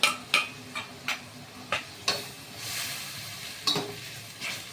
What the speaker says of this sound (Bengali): একটু নাড়িয়ে নিচ্ছি নাহলে তলায় লেগে যাবে স্টিলের কড়াই একটু নাড়তে হবে